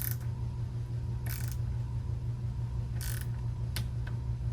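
A torque wrench tightening a bicycle bolt gives a few sharp, separate ratcheting clicks, spaced irregularly over a steady low mechanical hum in a quiet workshop.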